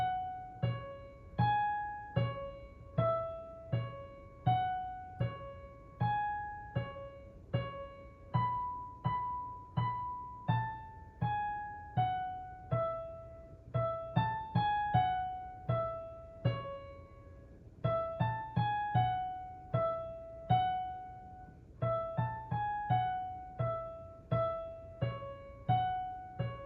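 Solo piano plays a piece at a slow tempo, clear single notes and gentle chords ringing out in a steady, unhurried melody with no talking.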